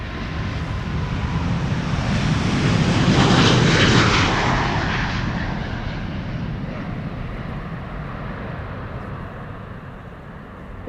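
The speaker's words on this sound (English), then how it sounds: "This is Singapore Airlines flight 323 to Singapore, an A350-900 coming this way." A Singapore Airlines Airbus A350-900, registration 9V-SMI, departs Amsterdam Schiphol's Polderbaan runway 36L in rain showers, its broad engine roar building to a loud peak and slowly fading into a lingering rumble, with no talk.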